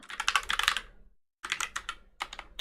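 Bursts of fast clicky typing on a computer keyboard, close and fairly loud, in three clusters broken by a short silent pause.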